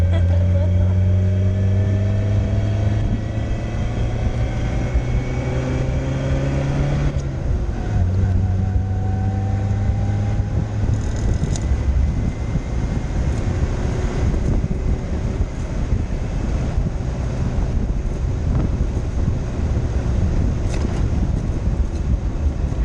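A Fiat Spider engine with a faulty carburetor runs rough on the road, a loud continuous drone with wavering pitch and sputtering under heavy wind noise, and a voice is heard briefly.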